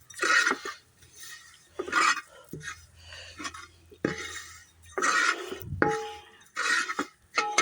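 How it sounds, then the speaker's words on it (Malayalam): Metal spoon scraping and clinking against a pan while stirring chutney powder ingredients such as curry leaves, ginger, garlic, onion, tamarind, chilli powder, pepper and coconut, in repeated close bursts with quiet gaps. "ഇനി ഇത് ഇളക്കുന്നു"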